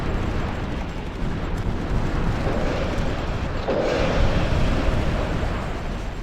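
Artillery fire and explosions in the strategy video game Supreme Ruler Ultimate, a continuous dense rumble of distant booms and blasts with no clear gaps, steady and fairly loud.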